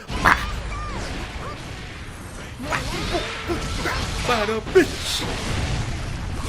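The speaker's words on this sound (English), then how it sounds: "whack them with a dust attack and they go wah" Fighting-game hits from Guilty Gear Strive: a sharp dust-attack whack and swooshing impacts land among electronic effects, with someone talking over the action.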